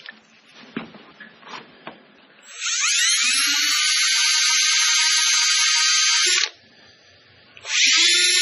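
A rotary wire brush whirs at high pitch while cleaning out the cylinder head of a 1939 Caterpillar D4 crawler, in one long steady burst followed by a short pause and a second burst, after some faint clanking.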